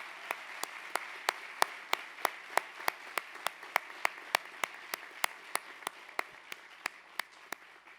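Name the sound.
audience applause for fire academy graduates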